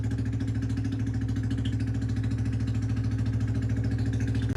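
Steady, even throb of an idling Yamaha Sniper 155 motorcycle engine, low and continuous with a regular pulse and no revving.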